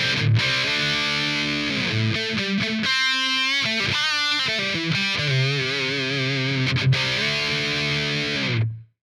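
A heavily distorted electric guitar through an Amplitube 5 amp simulator, miked with an SM57 alone, plays sustained, buzzy chords and bending notes, loud and saturated, cutting off abruptly at the end.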